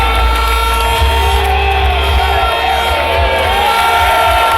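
A large outdoor crowd at the Luton Town FC 2014 champions parade cheers and whoops continuously, a loud sustained roar with a low rumble beneath.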